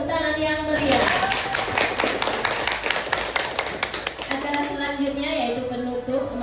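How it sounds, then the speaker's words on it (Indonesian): An audience applauds after a school presentation on the guru penggerak teacher-education programme and positive school culture, a dense, steady burst of many hands clapping that runs for several seconds under and between a voice speaking. "Beri tepuk tangan yang meriah."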